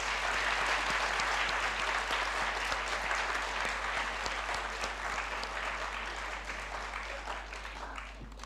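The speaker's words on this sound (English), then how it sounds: "Can we please give her another round of applause?" Sustained audience applause at a South Asian gender-equality award ceremony for the award recipient, dense and steady throughout and tapering slightly toward the end.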